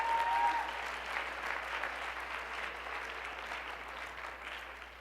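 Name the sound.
audience applause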